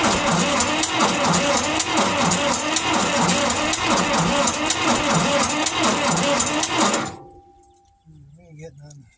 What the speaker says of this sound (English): Keep thinking I hear a knock in that engine when it rolls over